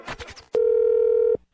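A telephone line plays a steady single dial tone for under a second after a few brief clicks and a faint voice, placing a call for a radio show.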